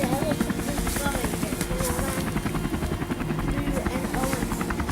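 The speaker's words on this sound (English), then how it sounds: "The rescue mission is the helicopter's going" Helicopter sound effect from a LEGO Jurassic World toy set, a continuous whirring rotor drone that stays loud and steady, with a voice talking over it.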